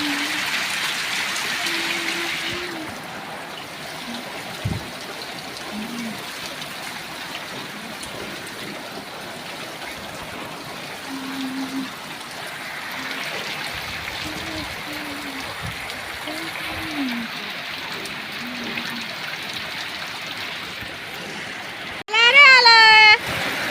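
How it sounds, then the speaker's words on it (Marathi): Heavy rain falling outdoors, a steady broad hiss that runs through the whole stretch, with a voice speaking over it at moments and a brief loud rush near the end. "आला रे मोठा पाऊस आला"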